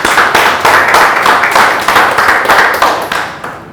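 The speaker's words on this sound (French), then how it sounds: "Donc tout le monde applaudissait d'abord pour ces jeunes qui sont là" Audience applauding for young participants at a coaching session in Cameroon, steady rhythmic clapping from a crowd that fades near the end.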